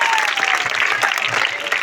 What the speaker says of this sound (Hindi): एक बार जोरदार तालियों के साथ हम स्वागत करेंगे।